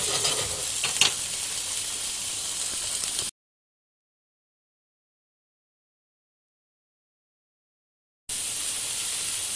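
Minced meat frying in a pan for macaroni bolognese and being stirred, with a steady loud sizzle and scraping for about three seconds, then abrupt silence before the sizzle returns.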